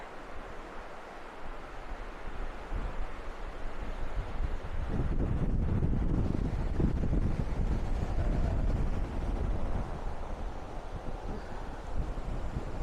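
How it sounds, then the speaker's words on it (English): Strong coastal wind off the ocean buffeting the microphone, a continuous roaring rumble that swells louder partway through, with no voices. "Very windy."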